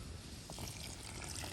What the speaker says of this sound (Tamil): இதோட புளித்தண்ணி விடுவோம்.